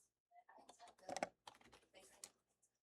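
Close, quiet tapping on a computer keyboard while Braille is typed, light clicks coming in irregular bursts with a brief pause partway through.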